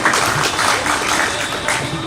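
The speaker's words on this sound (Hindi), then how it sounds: "एक बार जोरदार तालियां आप सब अपने लिए बजाइए।" Audience applause at a Krantikari Jayanti celebration: dense, steady clapping from a large crowd, loud and close, filling the whole moment.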